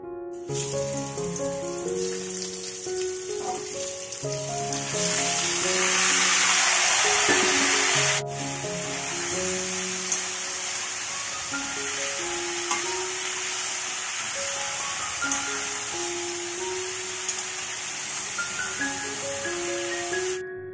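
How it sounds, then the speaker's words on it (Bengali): Young jackfruit fries in mustard oil in a kadai, giving a steady close sizzle that surges louder for a few seconds before settling, under background music with tonal melody. "এবার ইঁচড়টাও একইভাবে ভেজে নিই"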